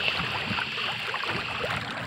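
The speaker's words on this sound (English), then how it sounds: "the boat sound is really, really nice, because it's not loud like a gasoline motor is" A small boat, quieter than a gasoline outboard, runs with a soft continuous motor hum while water rushes and hisses steadily past the hull, close and without talking.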